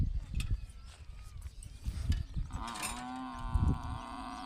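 Cows and buffaloes tethered at a village farm in open countryside give a drawn-out, tonal moo in the second half, over a general outdoor rumble and scattered noises.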